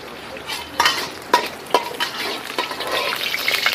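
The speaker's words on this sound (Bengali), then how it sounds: "আমরা গার্লিক সসের জন্য একটু ঘি দিয়ে নিলাম।" Ghee sizzling in a hot pan for garlic sauce, a close frying hiss broken by several scraping stir strokes and clinks, with no talk.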